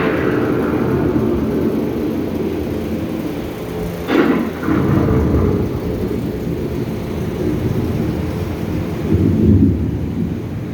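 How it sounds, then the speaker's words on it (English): A thunderstorm rumbles as a continuous loud wash of rain and deep thunder, with a sharp crack about midway and another swell of rumbling near the end. "The approaching storm may seem violent and destructive to us"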